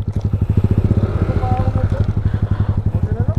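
A motorcycle engine pulses in a steady, rapid low chug while riding over a rough, difficult trail toward a riverside campsite, loud and close throughout.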